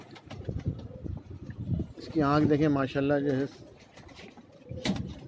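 A pair of milky-white Khatang pigeons on a rooftop gives a clear, close, throaty coo lasting about a second. Someone talks before and after it.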